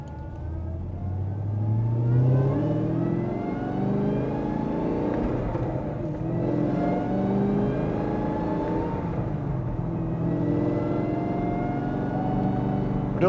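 A Yenko Camaro accelerating while driving along a building, engine note rising and shifting through gears, steady and close throughout with no talk.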